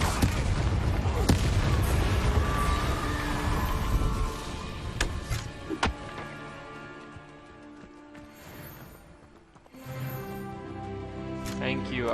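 The Incendio fire spell from Hogwarts Legacy goes off amid game combat, with fiery blasts and sharp bursts over a rumbling background that quiets partway through, and a voice is heard.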